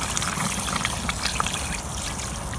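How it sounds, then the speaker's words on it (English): Water is poured into a lamb stew in a cast iron wok on a Weber grill, a steady trickling splash with faint sizzling bubbles, close and continuous. "so I'm gonna add a little bit of water."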